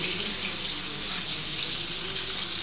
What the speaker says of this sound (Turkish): Normal çeşme suyu.